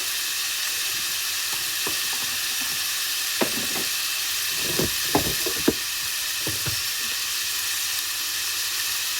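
Spices frying for a fenugreek leaf saaru, a steady sizzle throughout with scattered knocks and scrapes of stirring in the pan, close and continuous without talk.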